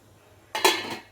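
A metal cake tin of chocolate cake batter is set down into a preheated kadai for baking, giving one brief clattering metallic clunk with a short scrape and ring that quickly fades.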